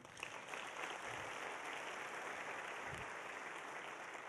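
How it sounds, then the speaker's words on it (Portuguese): Steady audience applause at a church gathering, a dense even wash of clapping that holds from start to finish, with no voices over it. "Você quer aplaudir? Pode aplaudir."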